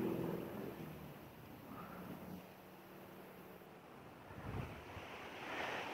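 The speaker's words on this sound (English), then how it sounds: "It's so windy today." Strong wind blowing outdoors near a backyard bird feeder, buffeting the microphone with a steady low roar and rumble, swelling and easing throughout with no talking.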